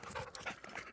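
A dog pants rapidly after running, quick faint breathy huffs in a fast, uneven rhythm, close but quiet, with no voices.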